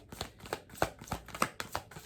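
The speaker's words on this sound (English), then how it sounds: "Cards have all been shuffled." Tarot cards are shuffled briskly by hand in a quick, steady rhythm of soft riffling slaps, close up and alone with no talking.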